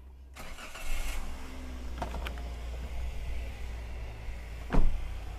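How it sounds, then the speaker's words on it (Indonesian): A Toyota Rush with about 100,000 km on it starts up: a brief starter crank followed by the engine catching, then a steady low idle with a few light mechanical clicks nearby, with no talking over it. "Coba sekarang kita hidupkan dulu Mas, kita lihat bagian mesinnya, ada suara-suara yang aneh atau enggak."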